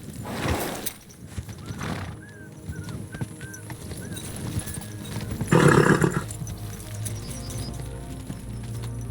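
A horse in the medieval video game Kingdom Come Deliverance II whinnies in several short, high neighs over rhythmic clip-clop hooves, with a louder burst of hoof and movement noise midway, close and clear.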